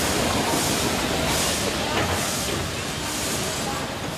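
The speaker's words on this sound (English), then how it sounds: "Nothing evokes the romance of the railway like a steam engine." A steam locomotive arriving at Pondicherry station in India gives a loud, continuous hissing roar with faint rhythmic chuffing, dense and steady throughout, with voices mixed beneath it.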